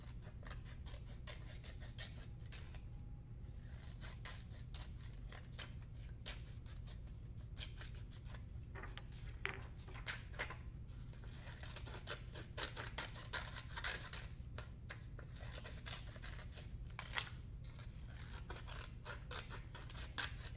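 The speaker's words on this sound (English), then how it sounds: "Just cutting a couple more." Scissors snip steadily through paper strips for a craft project, a long run of close, crisp repeated cuts with faint rustling paper between them and no talking.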